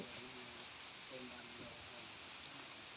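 Light, steady rain falls during a stormy day, a soft continuous hiss filling the background while someone talks over it.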